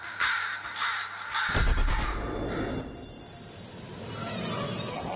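A crow caws loudly several times in a Minecraft horror mod, rhythmic raspy calls up front that give way to a rumbling, swelling ambient drone.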